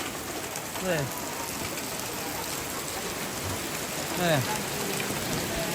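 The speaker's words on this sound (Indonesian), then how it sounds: "Nah, di sini hujan deras." Heavy rain pours steadily and close by at a traditional Toraja tongkonan house during an adat gathering, a dense continuous hiss with a couple of faint voices heard under it.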